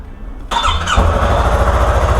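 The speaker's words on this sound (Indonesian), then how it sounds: "kalau kita nyalakan mesinnya" A motorcycle engine fitted with Duramoto M1 fog lamps turns over and catches at once, settling into a loud, steady, close idle with no talk over it.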